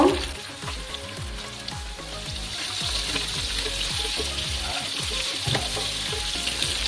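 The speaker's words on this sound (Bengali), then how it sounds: "মাছগুলো ভালো করে ভেজে নেব।" Puti fish fry in hot oil with a steady, busy sizzle and crackle, close and fairly loud, broken by bursts of spitting pops; no one speaks over it.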